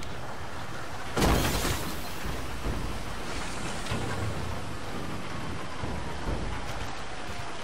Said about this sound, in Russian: Ой, и тут дождь, и у меня на улице дождь опять.